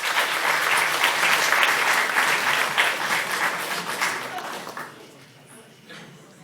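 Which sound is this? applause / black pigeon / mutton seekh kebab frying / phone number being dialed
applause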